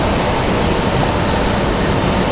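An American Airlines airliner departs RDU airport with a broad, steady jet roar. The engine noise stays loud and unbroken through the short span, with no talk over it.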